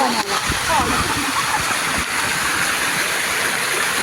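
Rushing water roars loudly and continuously, like a nearby cascade after heavy rain, with voices faintly mixed in.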